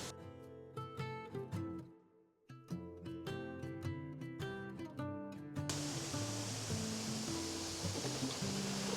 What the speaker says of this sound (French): Je suis sur des cailloux face à la cascade.